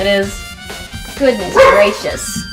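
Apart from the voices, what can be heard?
beagle bulldog dog barking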